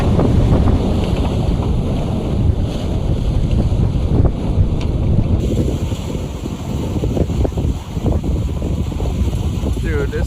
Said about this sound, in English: These waves are absolutely massive.